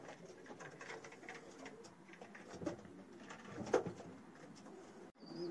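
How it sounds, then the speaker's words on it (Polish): Pigeons coo steadily inside a full pigeon loft of yearling racing birds, a soft continuous murmur of overlapping calls with a few louder nearby coos and faint rustling, no talk. "gołębnik jest pełny gołębi"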